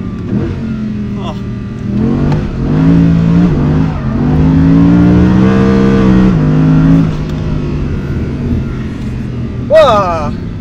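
An Audi R8 GT V10 revs hard at full throttle, a loud rising wail that climbs and holds before easing off, heard from inside the car with a voice briefly exclaiming near the end.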